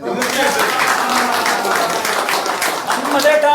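An audience claps after a speech in a comedy sketch, a dense crackling wave of many hands sustained throughout with voices mixed in.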